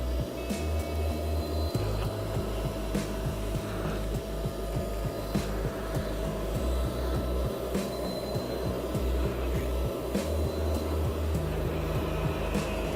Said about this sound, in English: Now I'm just vacuuming, trying to get as much of the water out of the carpet as I can